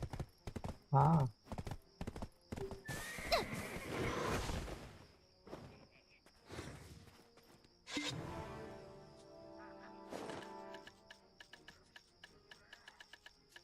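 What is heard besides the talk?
horse neighing in the video game Black Desert Online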